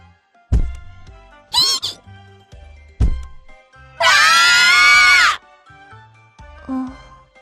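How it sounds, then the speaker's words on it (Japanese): A sudden high scream rings out, loud and held for about a second, amid sharp thuds and knocks and a brief higher squeal earlier, with no talking. "今の悲鳴。"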